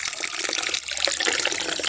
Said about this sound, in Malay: bancuh dengan air